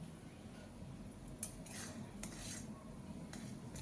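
Fried potatoes tossed into cooked spice masala in a pan for a Bengali egg and masoor dal dish: quiet scraping and clinking of a spoon against the pan, with a few brief sharper clinks over a soft steady background.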